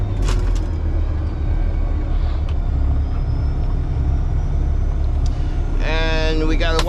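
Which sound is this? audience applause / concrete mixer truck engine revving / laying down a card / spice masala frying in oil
concrete mixer truck engine revving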